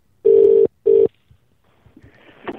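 A telephone ringback tone comes through the line on a live radio call-in show as an outgoing call rings out. It gives two loud, steady burr-burr rings close together, followed by faint line noise and shuffling.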